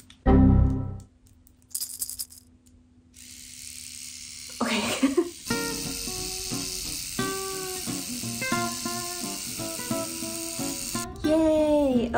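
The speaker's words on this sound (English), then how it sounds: "I got this cute pink trimmer." A small pink electric hair trimmer buzzes nearby in a steady whine that shifts in pitch as it moves, broken by brief bumps and handling noises, with a short voice near the start and at the end.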